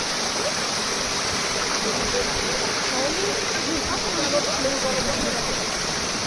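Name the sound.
water flowing from the 108 spouts at Muktinath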